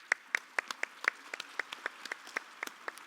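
Thin, scattered clapping for a distinguished panel at the end of a 2016 Jeju Forum world leaders session. Only a small number of hands are heard, each clap crisp and distinct in a quiet hall.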